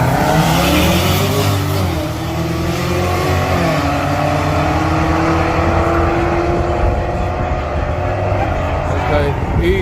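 Cadillac CTS-V drag racing down a strip at a track night, a loud continuous engine roar with a rising rev tone that holds steady, crowd chatter and talk mixed underneath.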